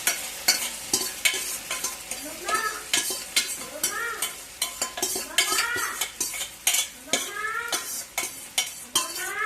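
Gongura leaves are stirred in a cooking pan, a ladle scraping and clinking against the metal in repeated quick strokes over a soft sizzle, close and busy with no talking.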